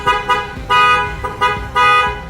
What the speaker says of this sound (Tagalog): Mas okay na rin tayo sa busina na meron ngayon.